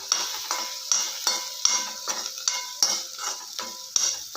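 Pasta being stirred with garam masala and coriander powder in a pan, a steady run of about a dozen scraping spoon strokes against the metal, close and fairly quiet, with no voices.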